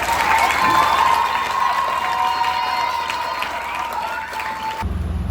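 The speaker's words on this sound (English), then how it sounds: "please give another big round of applause" Sustained applause from a large crowd at a school fashion walk event, dense clapping with some cheering, steady and loud for several seconds before cutting off abruptly near the end.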